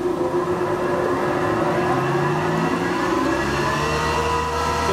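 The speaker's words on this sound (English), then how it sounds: "So we're going to fire up the first motor." A 37-inch wide jointer planer motor spins up and settles into a steady, loud, continuous whine and hum with a rising tonal drone, alone with no talk.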